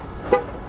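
A single brief horn chirp from a Mercedes-Benz CLA sounds when the car locks or unlocks, a short muffled toot over a low background hum.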